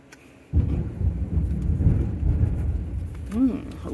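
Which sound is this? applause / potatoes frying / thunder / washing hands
thunder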